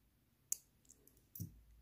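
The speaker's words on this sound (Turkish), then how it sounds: "şimdi ipimi kesiyorum bu başlangıç ipimizi de tamamen kökünden kesiyorum" Scissors snip the starting thread of a piece of needle lace (iğne oyası). Two sharp, quiet clicks come about a second apart in a near-silent room.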